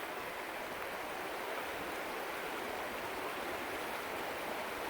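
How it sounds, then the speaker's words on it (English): The Beaver River runs beside a picnic area with an even, continuous rush. The flow sounds steady and mid-distance, and nothing else rises above it. "But there's the Beaver River."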